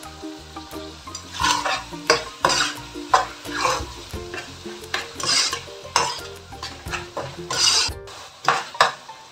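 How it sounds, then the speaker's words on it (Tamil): A spoon stirring mint and coriander in a biryani pot, repeated scraping strokes with metal knocks and a soft sizzle underneath, close and steady with no voices. "புதினா, கொத்தமல்லி போட்டு இது ஜஸ்ட் 1 minute தான் நான் கிண்டினேன்"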